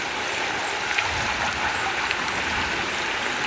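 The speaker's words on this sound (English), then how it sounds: "you can see there's a substantial amount of water pouring out of there" Rainwater gushes steadily out of a newly built drain across a road at an old house during heavy weather, a dense, continuous close rushing and splashing with no pauses.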